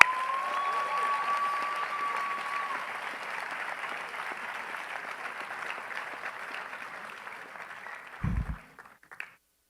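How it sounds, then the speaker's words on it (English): A large high school graduation audience applauds the graduates with sustained, dense clapping that slowly thins out and ends with a few scattered claps and a thump. "Let's give them a round of applause."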